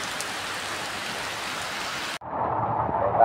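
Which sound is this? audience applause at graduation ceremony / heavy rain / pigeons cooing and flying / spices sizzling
heavy rain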